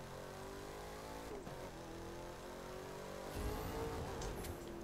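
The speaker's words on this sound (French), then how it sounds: "Puis écoutez les sons moteurs." Car engine in The Crew 2 racing game, a close, steady engine hum with a brief drop around the middle before the revs climb again and swell louder toward the end.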